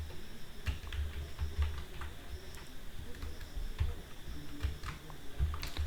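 A prompt is typed on a computer keyboard as a run of soft, uneven key clicks and taps at close range, with a low background hum and no talking.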